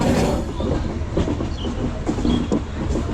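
The 12319 Kolkata–Gwalior express train rumbles steadily up close near Kasganj Junction, with rhythmic wheel clatter and faint squeals from the rails, and no voices.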